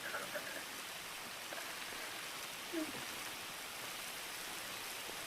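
Steady rainfall in the video game GTA 5, a soft continuous hiss of drops on surfaces with faint scattered splashes, even and unbroken throughout.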